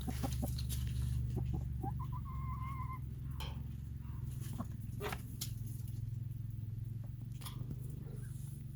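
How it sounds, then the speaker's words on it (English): Low, rhythmic clucking from a rooster in a barnyard to a laying Rhode Island Red hen, with a few brief higher chirps and a steady low background hum throughout. "clucking to her while she's laying"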